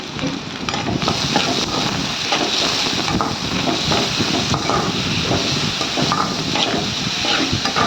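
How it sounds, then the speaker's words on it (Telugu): Brinjal (eggplant) and onion pieces frying in a pan, a continuous loud sizzle and hiss with the scrape and clatter of stirring throughout. "ఇప్పుడు వంకాయలు బాగా వేగిపోయినాయి"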